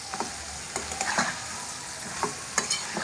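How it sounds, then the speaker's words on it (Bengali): Country chicken sautés in a pan with onions and green chilies for a thin curry, with a steady sizzle and repeated scraping strokes of a spatula stirring close by. "কষিয়ে নেব মাংসটা"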